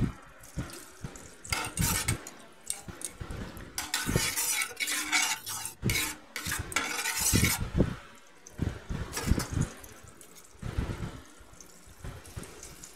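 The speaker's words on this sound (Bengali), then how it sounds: "এবার তেল বাটার একসাথে মেল্ট হয়ে গেলে আমি এতে মেখে রাখা জিরেটা দিয়ে দিচ্ছি।" Cumin going into melted oil and butter, heard as irregular bursts of stirring and metal utensil clatter against a pot, with quiet gaps between, close and fairly soft, with no talking.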